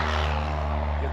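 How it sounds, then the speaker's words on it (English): Steady low drone of a propeller airplane passing overhead, continuous and fairly loud, with a humming engine tone dominating the whole moment and no talk. "we got an airplane."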